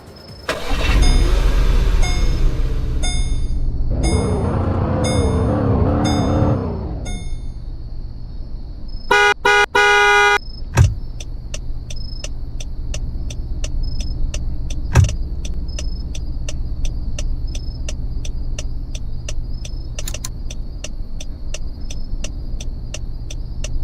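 A 2016 Volkswagen Tiguan in the Roblox game Greenville: engine starts and idles, a horn honks briefly, then a series of sharp clicks and beeps sound over a steady low engine hum.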